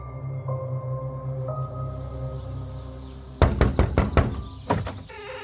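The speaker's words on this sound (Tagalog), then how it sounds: "Kaagad akong bumangon nang makarinig ng malakas na katok sa pintuan." Loud knocking on a door in an audio drama: a quick burst of about five sharp raps, a short pause, then two more, following a quiet low background hum.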